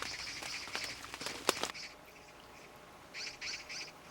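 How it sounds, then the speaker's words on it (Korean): Magpie calling in an apple orchard, a series of harsh chattering bursts, a cluster early then another near the end, moderately close over a quiet background. "놈이 나타났다. 까치다."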